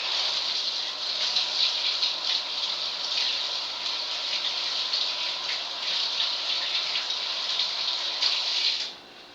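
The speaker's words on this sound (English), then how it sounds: "Let me rinse this off." Running tap water gushes steadily as a corned beef brisket is rinsed under it in a home kitchen, a loud, even stream lasting several seconds before cutting off at the end.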